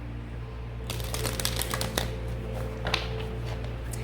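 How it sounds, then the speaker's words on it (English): A deck of cards riffles in quick, crisp bursts close to the microphone after a brief quiet start, with a low steady hum underneath. "2 more shuffles and then we'll be ready to pull from this deck."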